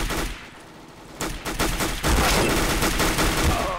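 Repeated gunfire in a CSGO match, dense bursts of shots building from sparse cracks into loud sustained fire across the clip, with no talk.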